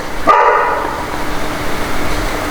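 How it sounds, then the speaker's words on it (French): A dog barks once loudly and close by at the start, followed by a fading tail and quiet indoor room background. "Et mon chien prend le relais du bruit."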